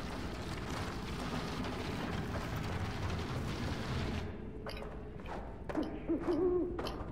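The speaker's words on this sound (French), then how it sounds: "Il est où ce hibou?" An owl in the video game Never Alone hoots several times in short, spaced calls after a rumbling wind-like ambience fades, the hoots fairly close and clear.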